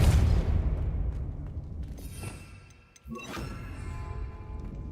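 A spell cast in Hogwarts Legacy lands as a loud, rumbling magical blast. A deep boom dies away, then a second impact and debris clatter follow about three seconds in, all without any talk.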